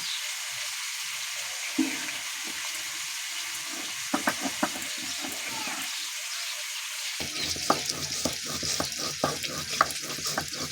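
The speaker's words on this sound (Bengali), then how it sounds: "সবজিগুলো লাল লাল করে ভাজা হয়ে গেছে" Winter vegetables fry in a pan as they are stirred, a sizzling hiss broken by repeated scraping stirs that turn busier and louder toward the end.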